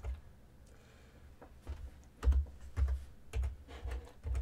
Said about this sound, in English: just click on it and use your keyboard to type something